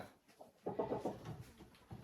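A hen sitting in a nest box in a backyard coop gives a short, soft run of low clucks, close and quiet, with a few fainter murmurs after.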